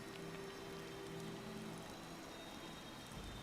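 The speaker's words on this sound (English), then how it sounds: "I'm actually standing in the rain" Steady, faint rain falls continuously in a video game, a soft even hiss with no voices over it.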